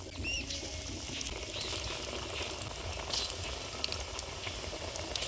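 Vegetable chops fry in hot oil, a soft continuous bubbling and hiss at low level, steady throughout with a few faint clicks over the top.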